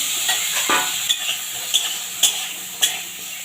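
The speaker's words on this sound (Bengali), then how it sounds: "এবারে বেগুনটাকে আমি ভেজে নেব একটু গ্যাসটাকে আমি বাড়িয়েই ভাজবো" Eggplant pieces frying in oil in a wok over high heat, a loud steady sizzle punctuated by four or five sharp spatula scrapes and clinks as the pieces are turned, with no speech.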